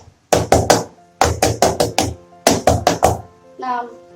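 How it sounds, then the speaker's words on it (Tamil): A cake pan holding batter for a biscuit cake is tapped against a surface in three quick bursts of sharp, close knocks, followed by a brief voice. "இதில் வந்து ரெண்டு தட்டு தட்டிட்டு"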